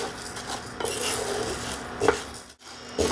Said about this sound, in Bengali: সাবুটা হালকা করে ভেজে নিলাম